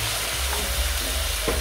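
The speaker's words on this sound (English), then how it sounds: "Now I'm gonna add in our tomato. Mix that together." Chopped tomato stirred into a hot pan with onion for Maggi noodles in tomato sauce, a dense close sizzle with a brief scrape of the spoon near the end, no talking.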